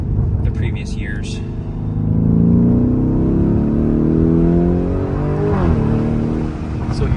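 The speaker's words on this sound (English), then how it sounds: "Performante has a much more pronounced exhaust note compared to" A 2023 Lamborghini Urus Performante with its factory Akrapovic exhaust revs up loudly and close, the engine note rising, holding and then easing back over several seconds, with a deep rumble throughout.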